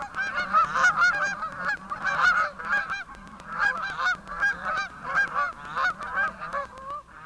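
Large black-headed, black-necked goose honking repeatedly in a loud, continuous chorus of overlapping calls, close by, with no voices.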